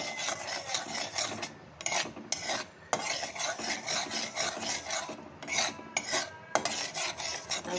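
Ginger and garlic paste being stirred in a pan, rhythmic rasping scrapes of a spatula against the metal with brief pauses and clinks, close and fairly steady.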